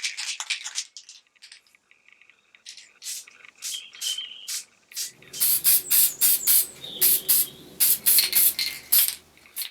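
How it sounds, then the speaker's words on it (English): PlastiKote Fast Dry Enamel white spray paint hisses from an aerosol can onto pine cones in a series of short bursts, growing louder and more frequent toward the end, with no talking. "I'm just going to give these pine cones a light dusting of white with the PlastiKote Fast Dry Enamel"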